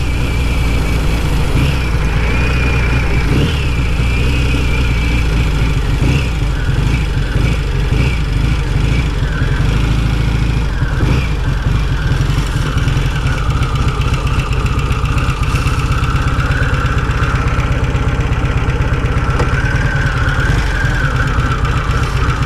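A Royal Enfield 500 Meteor Minor twin motorcycle engine idles loud and close, a steady throbbing beat held without pause and with no talk.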